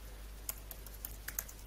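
Soft, quick keystrokes patter on a computer keyboard, close but faint and irregular, with no voices.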